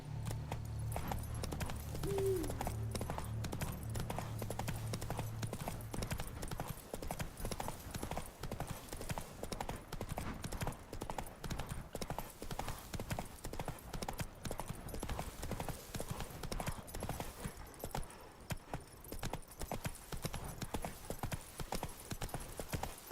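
Roach, Geralt's horse in The Witcher 3: Wild Hunt, Blood and Wine, clip-clops in a steady, even rhythm of hoofbeats that keeps going the whole time, with a faint whinny near the start.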